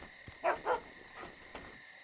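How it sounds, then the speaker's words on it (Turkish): A dog barks in the video game Commandos Strike Force, set in 1942 France: two quick barks close together, then a few fainter yips trail off over the game's steady ambient hum. "Köpeğe bak."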